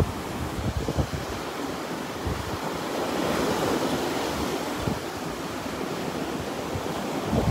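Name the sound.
ocean waves at the beach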